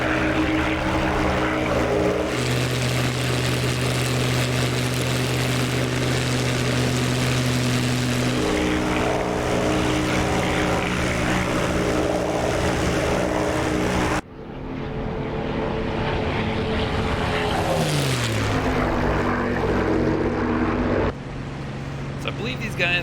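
A Bf-109 propeller fighter's engine drones steadily in flight in a video game, loud and continuous with a sustained tonal hum that shifts pitch partway through. Someone talks over it.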